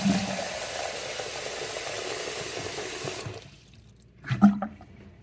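Running water pours steadily into a sink after a drain unclog, then stops, followed by a brief gurgle as it drains.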